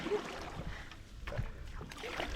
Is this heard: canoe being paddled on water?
yes